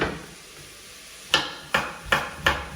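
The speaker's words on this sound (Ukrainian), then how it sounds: "А я буду дорізати ще цей шматочок гарбуза і одразу закладаю." Knife cutting pumpkin pieces on a board, four crisp chops in a steady rhythm after a quiet pause, close and clear.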